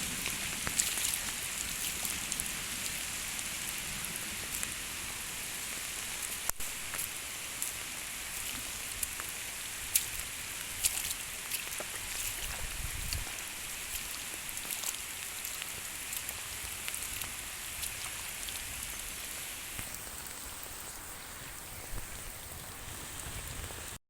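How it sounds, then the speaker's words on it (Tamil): Heavy rain pours steadily, a dense constant hiss of drops hitting surfaces, with no talking. "பாருங்கள் நண்பர்களே மழை பாருங்கள் சரியான மழை"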